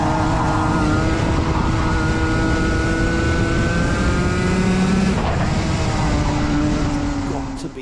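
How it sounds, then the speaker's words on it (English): Race car engine at Yas Marina circuit held near full throttle, a loud sustained high-pitched drone with steady harmonics that shift slightly partway through, heard alone and fading a little at the end. "Let's have a listen to Sam's engine revs"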